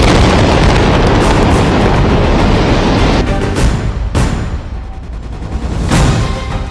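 Loud explosions from Israeli strikes on Gaza roar in a continuous heavy rumble, with sharp blasts bursting through at intervals near the end, close and powerful.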